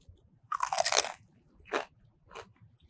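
Teeth bite into the crackling skin of Cantonese roast pork belly (siu yuk), giving one loud, sharp crunch followed by two shorter, fainter crunches as chewing continues, close up and with no talking.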